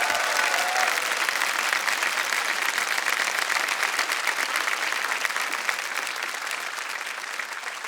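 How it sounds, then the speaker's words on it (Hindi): Studio audience on a Hindi television quiz show claps for a contestant, a dense, steady roar of many hands sustained throughout and tapering slightly toward the end, with no talking over it. "तालियां बज जाए इनके लिए।"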